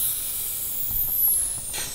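A steady, fairly loud hiss of air escaping from the vacuum system of an Audi RS4 B7 V8 with over 400,000 km continues throughout, with faint bumps and clicks underneath.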